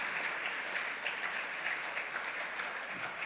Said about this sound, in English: with a round of applause, welcome the rep from Volta River Authority to give us the solidarity message